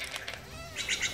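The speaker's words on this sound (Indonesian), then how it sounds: "Burung enggang?" A hornbill in an animated cartoon gives a short burst of bright chirping calls, with a flutter of wings just before it.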